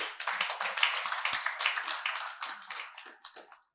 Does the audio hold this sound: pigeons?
no